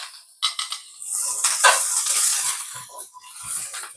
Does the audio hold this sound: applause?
no